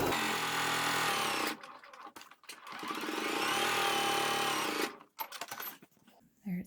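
Sewing machine running steady bursts while stitching the edges of a patchwork pot holder, a close mechanical whir that stops and restarts a few times with short pauses between runs.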